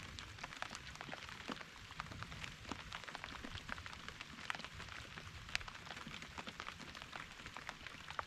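Rain falls outdoors at Tippy Dam, a soft, faint, steady patter with scattered sharper drops tapping nearby surfaces, heard alone without voices.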